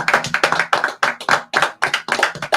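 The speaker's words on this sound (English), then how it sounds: "Round of applause for that." A small group claps along with a radio show's hosts, quick sharp claps in uneven bursts lasting a couple of seconds, close and fairly loud.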